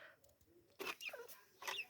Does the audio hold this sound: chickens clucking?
yes